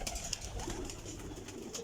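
White banded pigeons coo softly in a steady, low murmur, with faint flutters and shuffling close by and no one speaking.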